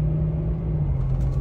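Low steady engine rumble inside a Toyota 4Runner on 35-inch tires as it pulls away through the gears, droning continuously at close range with no talking.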